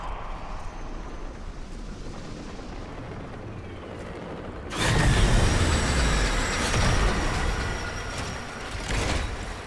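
A train arrives in the Warframe video game, a heavy rumbling, roaring approach that surges abruptly louder midway and continues as a dense, booming mechanical wash.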